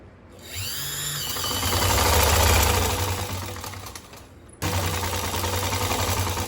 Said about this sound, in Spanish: a la máquina overlock para hacerle las terminaciones. Y vamos a cerrar las costuras de la manga y de la chaqueta.